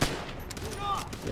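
Gunfire crackles in Call of Duty: World at War, a brief burst of rapid, close shots with sharp onsets across a short stretch.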